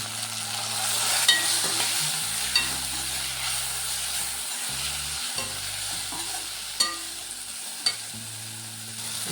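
A spiced curry base with chili powder and salt fries in a pan, a constant soft sizzle under repeated spatula scrapes, with several sharp clinks of metal against the pan.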